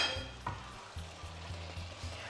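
Beef with onions and peppers sizzles steadily in a pot over a high flame, a continuous close frying hiss broken by a few soft stirring knocks.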